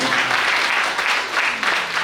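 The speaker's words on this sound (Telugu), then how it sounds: "గట్టిగా క్లాప్స్ కొట్టాలి" Audience applause at a Sunday School children's anniversary prayer gathering, a dense, continuous patter of many hands clapping at moderate loudness for a couple of seconds.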